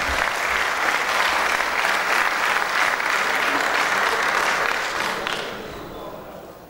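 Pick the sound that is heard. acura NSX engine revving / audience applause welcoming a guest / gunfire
audience applause welcoming a guest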